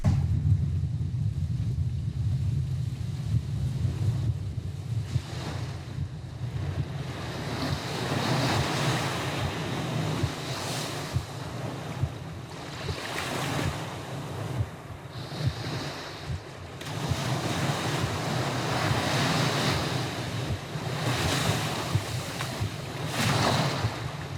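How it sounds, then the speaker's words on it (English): Ocean surf and gusting wind on a deserted Pacific island off Central America, a continuous roar of breaking waves with low rumbling wind buffeting the microphone, swelling and easing throughout with no voices. "I'm on a deserted island in the Pacific Ocean, 50 miles up the coast of Central America"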